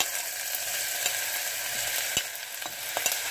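Onion, garlic and ginger fry in olive oil in a pan, giving a constant soft sizzle with occasional light stirring clicks and scrapes, close and moderate in level, with nobody speaking.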